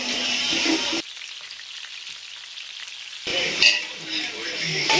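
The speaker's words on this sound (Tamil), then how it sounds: "நம்ம வெட்டி வச்சிருக்க வெங்காயம் சேர்த்து வதக்கிக்கலாம் நல்லா கோல்டன் ப்ரௌன் வர வரைக்கும் இதை நல்லா வதக்கிக்கலாம்" Chopped onions sautéing in oil for South Indian style mutton biryani, a close, dense sizzle that cuts out briefly to near silence before resuming with stirring.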